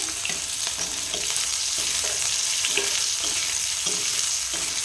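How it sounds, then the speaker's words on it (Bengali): Chopped onion frying in oil left over from frying fish, with whole garam masala and bay leaves, a continuous busy sizzle with scattered stirring scrapes, close and steady throughout. "পেঁয়াজটাকে একটু ভাজা ভাজা করে নেবো"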